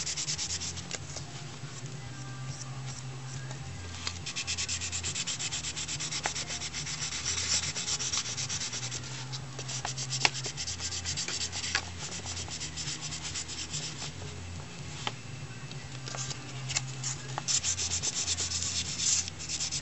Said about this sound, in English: now I'm going to start sanding it because the putty's dry